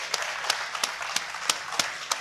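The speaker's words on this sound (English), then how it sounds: "If we could just finish with a round of applause for the United Kingdom's ESA astronaut" Audience applause for ESA astronaut Major Tim Peake, heard as a thin, sparse round of claps with distinct individual hand-claps standing out at a fairly steady rhythm, moderately close and fairly quiet.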